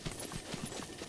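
Horses' hooves clopping in the video game The Legend of Zelda: Breath of the Wild, a quick run of soft, muffled beats at a steady gallop pace over a continuous game background, with no talk.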